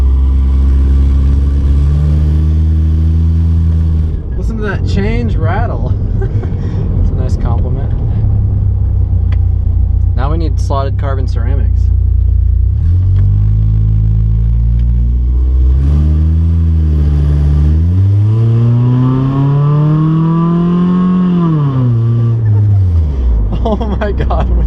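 An engine in a budget race car project with new exhaust revs repeatedly, rising and falling in pitch from inside the cab, loud and close, with people talking over it.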